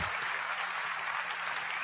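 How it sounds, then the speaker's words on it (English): A studio audience applauds with steady, dense clapping, moderately quiet, over about two seconds without talk. "They gonna clap for you, Coach."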